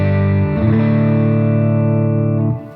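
Electric guitar on the neck pickup through a Quilter MicroPro 200 amp, a sustained distorted chord struck twice and left ringing loud and close with no talking.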